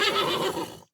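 A horse whinnies loudly and close, one long neigh with a shaky, descending tone that fades out near the end, with no talking.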